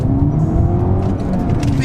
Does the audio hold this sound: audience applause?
no